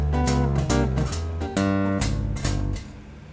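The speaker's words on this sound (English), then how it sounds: "Now what I'm going to do is play a half step above the G and then slide down to the root." A Chapman Stick plays a walking bass line with a half-step slide down to the G root, the low tapped notes sounding full and sustained one after another, close and alone.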